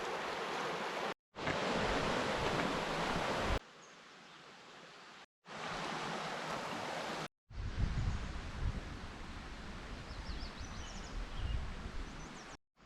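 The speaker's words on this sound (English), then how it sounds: "And here's the Oyster River." The Oyster River on Vancouver Island flows through forest near a wetland, a steady broadband rush of water heard in several cut segments of varying loudness.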